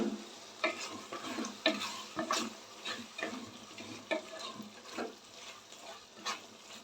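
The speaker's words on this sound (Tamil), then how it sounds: "சால்ட்டு சேர்த்து கொஞ்சம் நல்லா வதக்கி விட்டுருங்க" Onions being sautéed with salt in a pan for a traditional mutton curry, a soft steady sizzle broken by repeated scraping stirs close up.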